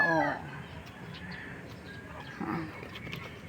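A brooding hen clucks softly a few times nearby, with a brief higher call at the start, over quiet background noise.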